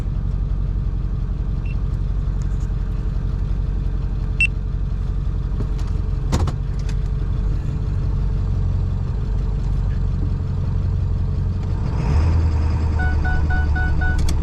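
A tuned Ford 7.3 Powerstroke diesel truck engine runs with a steady, loud low rumble throughout, with a few faint clicks and no speech.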